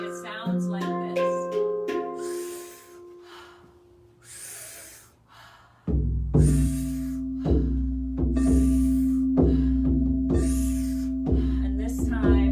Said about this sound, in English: powerful inhale, soft exhale, in and out through the mouth